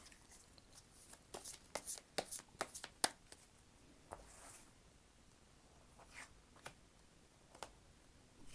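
Tarot cards handled quietly up close, giving scattered soft flicks, taps and slides in short clusters as they are shuffled and drawn, with no voices.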